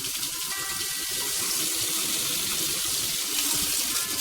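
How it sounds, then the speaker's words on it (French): Hot tap water pours steadily from a faucet into a sink, a close, continuous splashing hiss with no break, while bread is being made at home. "robinet, mettre de l'eau brûlante."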